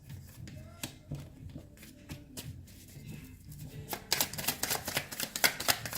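Tarot cards are shuffled by hand in a run of papery flicks and taps that grows into a louder, denser riffling toward the end.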